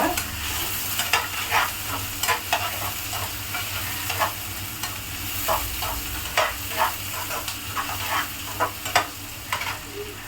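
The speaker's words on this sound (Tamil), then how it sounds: "அதுக்கு வெங்காயம் பொரியுது" Chopped large onions frying in a pan for a three-fish curry, a steady close sizzle with rhythmic scraping strokes of a spoon stirring them throughout, no voices.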